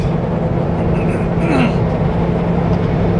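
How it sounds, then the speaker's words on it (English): A dense low rumble of an eastbound train rolling past nearby, steady and loud throughout, with a faint brief squeal in the middle. "Got an eastbound train"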